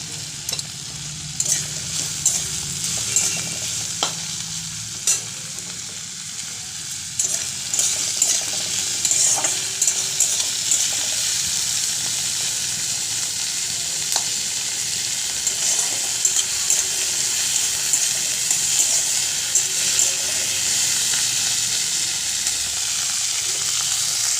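Cardamom, cinnamon and cloves sizzle steadily in a pan for a lentil-dumpling curry, a continuous close frying hiss with occasional small crackles and stirring scrapes throughout.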